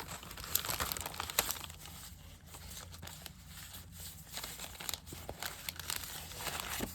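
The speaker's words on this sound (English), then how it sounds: "So we'll go ahead and grab out a plain envelope out of this packet." Plain paper envelope pulled from a crinkly paper packet while assembling scrapbook journal pages, a run of close, soft crumpling and rustling with brief sharper tearing crackles, quiet and alone.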